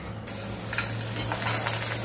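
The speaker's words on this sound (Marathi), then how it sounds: "न तोडता आपण हा बॉबी पापड तळून बघितलेला आहे" Spinach rice bobby papad fries whole in hot oil, giving a soft, steady crackling sizzle with a few brighter pops over a low background hum.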